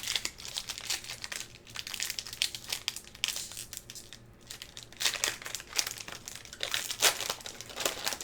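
Mercadian Masques Magic: The Gathering booster pack wrapper crinkling and crackling as it is slowly opened, a steady run of close, dense foil rustles with louder bursts near the end, no talking.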